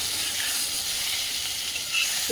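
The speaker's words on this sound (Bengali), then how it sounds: "বেগুনটা লবণ হলুদ দিয়ে দিচ্ছি দিয়ে একটু ভেজে নেব এটাকে ভালো করে এই যে ঢাকা দিয়ে দিয়ে ভাজছি" Eggplant fries in a covered pan with salt and turmeric, giving a steady, close sizzling hiss that holds evenly throughout with no talking.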